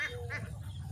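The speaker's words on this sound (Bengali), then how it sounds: "একটি হাঁসের খামার।" Ducks quacking at a large duck farm beside a wetland in a Bangladeshi village, a few nasal calls in quick succession over a steady low rumble of the flock, close and clear.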